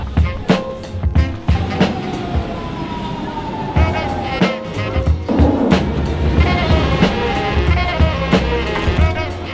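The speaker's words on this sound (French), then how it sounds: "On prend un nouveau train pour aller dans le town center" A metro train ride heading into a town center, with loud rumbling, clattering track noise and sharp bangs, plus rising and falling motor whines and squeals as the train moves.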